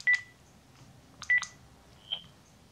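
Tones on a faulty telephone line, heard as two short paired bleeps with a brief pulse between and a single higher beep near the end, all faint over a quiet hiss.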